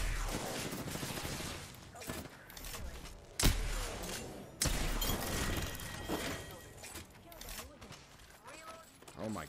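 Gunfire in Apex Legends rattles in bursts, with sharp loud shots and impacts scattered over a busy mix of game sounds and excited talking.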